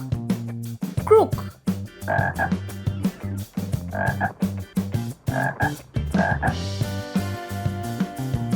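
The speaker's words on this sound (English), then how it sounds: "Frog, croak." A frog croaks in a repeated, rhythmic series of close, loud calls, set over a backing of music.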